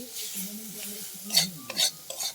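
Shrimp sautéed with spices in an oiled pan, a spatula scraping and stirring in short uneven strokes over a soft sizzle, with a few louder clatters near the end.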